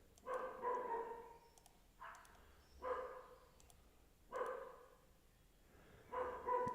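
A dog barks in several separate bursts, each a short cluster of barks with gaps between them, moderately close and alone with no talk.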